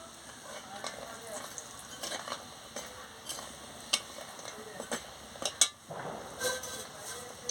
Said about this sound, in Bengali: তেলটা গরম হয়ে গেছে এবারে ভুড়িটা হালকা করে ভেজে নিচ্ছি